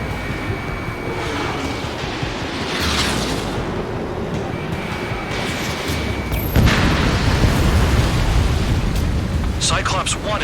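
Drones being shot down in the Ace Combat 7 flight game produce rumbling explosions, with a sharp loud blast partway through, over constant jet engine roar and radio voices.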